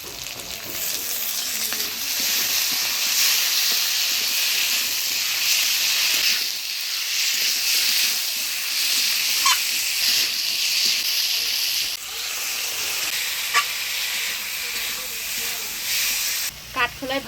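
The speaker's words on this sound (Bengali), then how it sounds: "কাঠখোলায় ভেজে রাখা বাটা মশলাটা দিয়ে নাড়াচাড়া করে নিলাম" Spice paste, fried earlier in a dry clay pan, is stirred into potatoes and vegetable stalks in a pan, giving a loud, steady sizzle and hiss for most of the stretch, with a few brief scrapes near the end.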